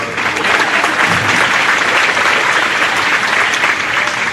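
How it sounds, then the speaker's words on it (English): An audience at a high school sports banquet claps steadily, a dense, loud and even wash of applause from a full room that holds throughout. "This time, you can clap for her"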